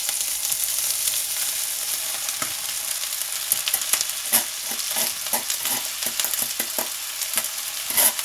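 Cooked rice tossed into a hot wok for chicken fried rice, a steady close sizzle and frying hiss with scraping stir strokes and clatter running throughout, no voices.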